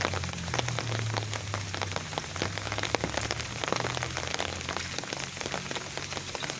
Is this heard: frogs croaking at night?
no